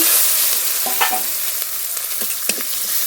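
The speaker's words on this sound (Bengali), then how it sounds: "মশলা একটু হালকা করে কষিয়ে নিয়েছি" Ground spices (coriander, chili, cumin, turmeric) with salt and slit green chilies frying in a pan, a steady soft sizzle with a few scraping stir strokes, close and continuous, no voices.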